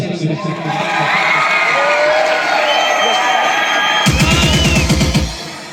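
A lively crowd cheers, whoops and shouts for someone named Cangara, loud and sustained, with voices among the noise and a sudden rhythmic thumping burst near the end.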